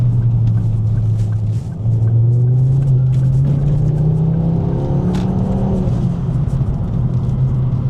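A Mk2 Ford Focus RS engine, heard from inside, holds a low steady rumble, then climbs gradually in pitch as revs build under acceleration, loud and continuous without talk.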